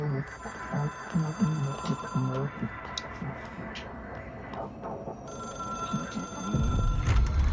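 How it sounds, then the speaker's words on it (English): In the video game Control, a telephone rings with repeated bell-like pulses over a noisy background. The ringing is moderately clear, and voices talk under and around it. "Já tem um telefone lá em cima."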